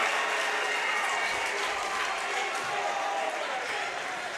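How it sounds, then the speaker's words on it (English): A crowd at a 2017 high school boys basketball playoff game, Triton versus Pentucket, roars in a loud, steady wash of cheering that fills the gym, with a commentator talking over it. "And that fires up the crowd."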